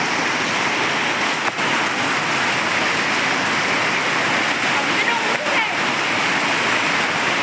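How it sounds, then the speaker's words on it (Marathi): Heavy rain pours steadily while water gushes and splashes off a roof edge nearby, a continuous loud rushing with no break. "हे बघा वळून टेरेसवरून थोडं पाणी वाहतं"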